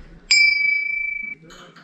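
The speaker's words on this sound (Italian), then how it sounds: "Per chi suona la campana?" A bell is struck once at a mountain hut, giving a bright, clear ding that rings steadily for about a second before cutting off. Faint voices come before and after it.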